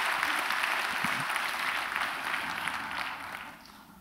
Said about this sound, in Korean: 우리 한번 감사의 박수로 한번 격려하겠습니다